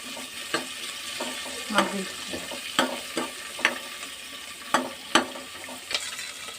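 Onions with cumin seeds frying in a pan for a Telangana-style corn dish, a soft steady sizzle broken by sharp scraping stirs of a utensil against the pan at irregular intervals.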